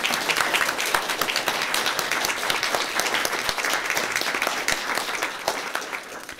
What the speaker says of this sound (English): I can't think of anything that deserves a round of applause more